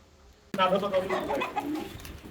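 A male Mundian fancy pigeon of Danish-Pakistani bloodline coos close by in a few deep, throaty phrases after a short quiet start, with a low rumbling vocal pulse continuing to the end.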